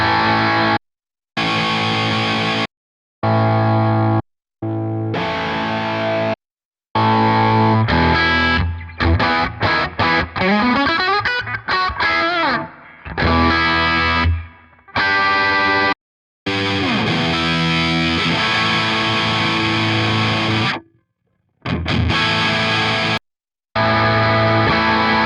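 Distorted electric guitar played through a Line 6 Helix preset with a delay effect, loud strummed chords and single-note runs with echoing repeats, the playing stopping and restarting in short bursts.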